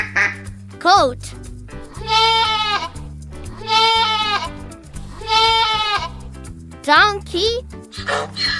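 A goat bleats in a cartoonish children's animal-sounds sequence, several wavering, tremulous cries repeated in close succession over a steady, bouncy music bed, with brief higher chirpy sounds between them.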